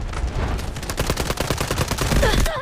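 Gunfire in the Delta Force video game: dense, rapid automatic bursts and overlapping shots in a continuous loud fusillade, close up, with a brief voice near the end.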